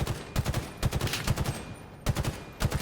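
Gunfire in a Halo match comes as repeated sharp shots in irregular clusters, moderately loud and close.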